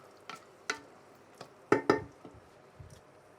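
A spoon stirs minestrone soup with tomatoes in a pot, giving a handful of sparse, soft scrapes and knocks over a quiet background.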